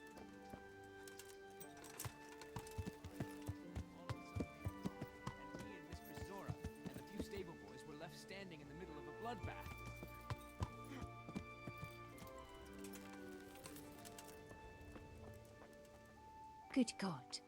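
Horse hooves clip-clopping steadily in the medieval game Kingdom Come: Deliverance, a rhythmic run of hoof strikes under game music and ambience, with a louder burst near the end.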